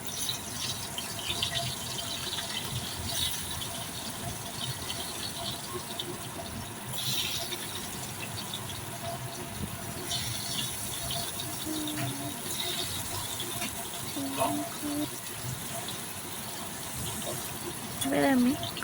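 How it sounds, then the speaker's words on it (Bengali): Cut potato pieces frying in hot oil, a steady low sizzle and crackle running throughout, with a voice talking over it. "আমি টুকরো করে কেটে রাখা আলুগুলোকে লাল লাল করে ভেজে আবারও তুলে নেব।"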